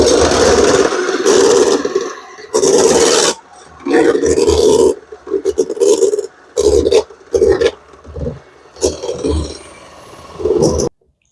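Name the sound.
mixer beating cold evaporated milk on high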